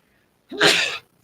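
One sharp, close sneeze bursts out and is over in about half a second, with quiet before and after.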